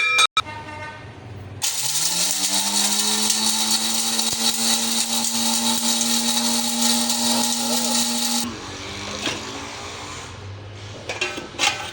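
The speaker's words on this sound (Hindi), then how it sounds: "अभी इसको इंशाल्लाह ग्राइंड करेंगे।" Electric grinder grinding herbal powder ingredients: the motor spins up with a rising whine into a loud, steady high-pitched buzz for several seconds, then cuts off abruptly, leaving some faint rattling and handling sounds.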